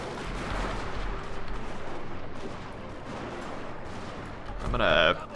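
Massed musket and artillery gunfire in a Total War Shogun 2 Fall of the Samurai battle, a continuous rumbling crackle of distant volleys with game sound effects rising near the end.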